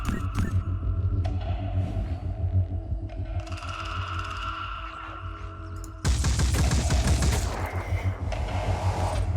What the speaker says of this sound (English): Let's use the turret.